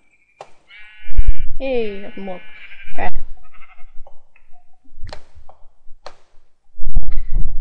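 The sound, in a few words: sheep bleating in the video game Minecraft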